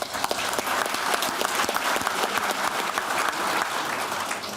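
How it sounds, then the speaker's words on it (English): Sustained applause from a conference audience for members of a crop protection and seed panel at an agricultural congress, dense steady clapping that fills the room for several seconds without a pause. "let's give a round of applause for the panel members"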